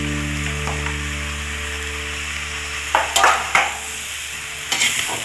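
Javanese bakmi noodles with Malang-style meatballs fry in a pan under a steady sizzle, joined by several sharp scraping stirs of a utensil against the pan in the second half.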